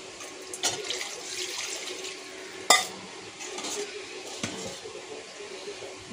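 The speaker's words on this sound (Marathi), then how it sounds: "थोडंसं पाणी मी टाकते." Water splashes into a pot of mutton pulao amid a hissing sizzle, with sharp metallic clinks of a utensil against the pot.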